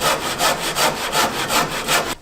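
A hand saw cuts through a wooden roof batten with about six rhythmic, loud rasping strokes, close up and alone, ending abruptly.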